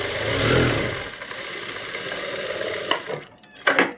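A sewing machine stitching the seams of an Afghani salwar: a continuous motor whir with a rapid needle rattle, running steadily and then stopping, followed by a few handling knocks.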